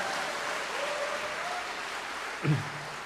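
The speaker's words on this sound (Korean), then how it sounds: "잘하면 박수 한번 쳐주세요" Church congregation applause for a preacher, a broad continuous wash of many people clapping at a distance, steady and moderately loud, with a brief voice near the end.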